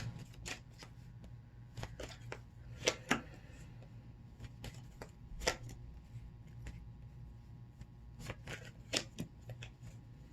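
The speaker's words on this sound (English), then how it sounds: "Let me pull a few tarot cards." Tarot cards shuffled and pulled from a deck, with a run of quick, close, soft riffling clicks and slaps scattered irregularly over about ten seconds in a quiet room.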